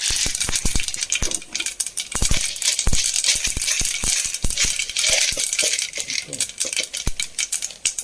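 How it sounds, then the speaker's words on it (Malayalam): Mustard seeds dropped into a hot pan for ragi vermicelli upma rattle and crackle in quick sharp bursts, loud and close, with no talk. "ചൂടായി വരട്ടെ കുറച്ച് കടുക് ഇട്ട് കൊടുക്കാം"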